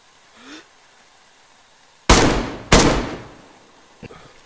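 Two sharp SKS rifle shots crack in the survival game DayZ, loud and close, about half a second apart, each with a ringing tail, followed by a fainter pop and brief quiet sounds.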